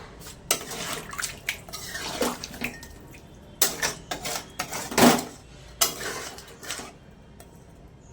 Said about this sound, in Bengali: এবার 1 কাপ মতো জল দিলাম, খুব বেশি জল দেব না।